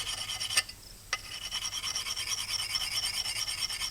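A file rasps back and forth along the edge of an axe head in steady, close strokes, a gritty scraping rhythm broken by a couple of sharp taps.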